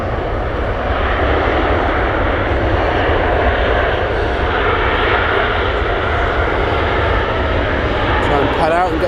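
A Boeing 777 lands on runway 23R at Manchester Airport, close by, its large jet engines giving a loud, steady roar that fills the whole stretch without letup.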